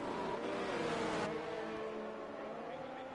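F1 race cars in a racing video game at the Spanish GP, an engine note that rises in pitch under acceleration then drops off as the cars brake into a corner, a loud close whine fading to a lower rumble.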